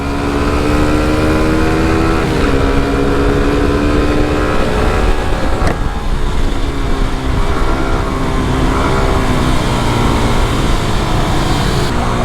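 A motorcycle rides along a busy road in Bangladesh, its engine droning loud and steady throughout, with wind rush and passing traffic blending into a continuous roar.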